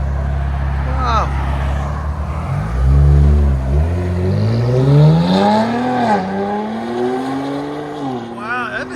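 Straight-piped 2023 Nissan Z with a 3.0L twin-turbo engine accelerating hard, its loud raspy exhaust climbing steadily through the revs from a deep idle rumble, with road noise and brief passing traffic around it.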